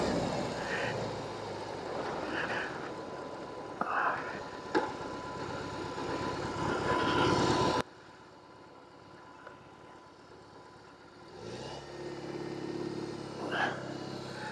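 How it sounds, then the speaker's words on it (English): A BMW R18 cruiser motorcycle engine runs in a steady, rumbling drone that drops abruptly to a quieter idle partway through, with faint voices in the background. "Let's give it the sound test."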